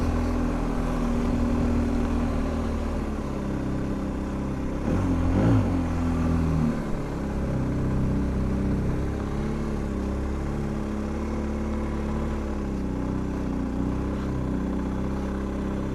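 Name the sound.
BMW R1250 GS Adventure motorcycle being ridden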